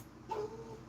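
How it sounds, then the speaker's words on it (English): A dog lets out one short, faint whimper, a brief high whine against a low room hum. "Y'all got to excuse my dog."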